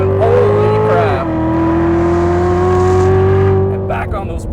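A 2015 Chevrolet Corvette Z06 engine roars loudly from inside the cabin as the car accelerates through a banked turn, a strong steady drone that dips on an upshift and climbs again, with a voice speaking over it.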